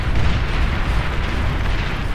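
Artillery barrage in the strategy game Beyond All Reason, a steady dense rumble of heavy booms blending into one continuous roar, loud and low throughout.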